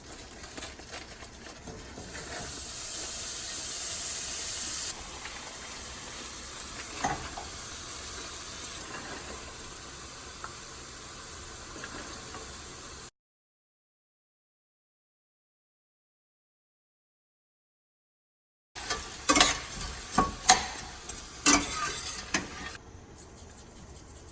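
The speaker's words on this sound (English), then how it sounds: "We're going to get this oil in the pan nice and hot." Hot oil sizzles in a frying pan with a steady broadband hiss. After a short silent gap it returns with sharper crackles and pops.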